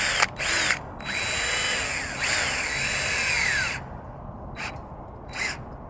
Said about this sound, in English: So I might have to go get the smaller bit, drill it first.